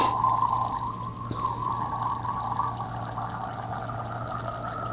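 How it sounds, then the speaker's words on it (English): Deionized water streams into a square mixing bottle in a lab, a steady filling gurgle over a low constant hum, with no one speaking. "You need to fill it up to the 20 line, 20, with deionized water."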